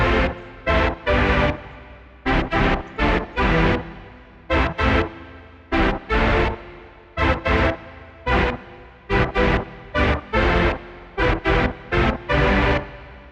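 A modern supersaw synth built in Serum 2 and run through a multiband compressor plays loud, bright chord stabs in a steady rhythmic pattern with short gaps between hits.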